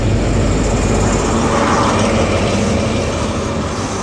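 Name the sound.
Great Western Railway HST train 43186 pulling into station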